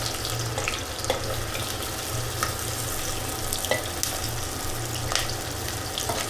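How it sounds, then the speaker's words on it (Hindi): Onion frying in hot oil with bay leaf, fenugreek and asafoetida for a village-style jackfruit curry, a close, dense, steady sizzle with faint crackles and stirring, and no talk. "अब ये देखिए प्याज डाला जा रहा है।"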